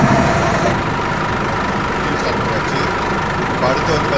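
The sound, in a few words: bus engine starting and idling in a bus simulator video game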